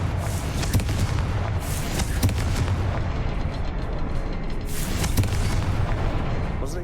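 A Confringo blasting spell goes off in Hogwarts Legacy, setting off a series of deep, rumbling booms with crackling bursts that keep up steadily and loudly the whole way through, with nobody speaking.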